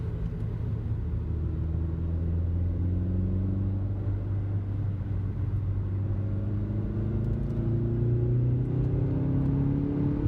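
A turbocharged car engine drones steadily on a mountain road, its pitch climbing and falling as it revs hard and accelerates up to 60 mph, loud and close throughout with no talking.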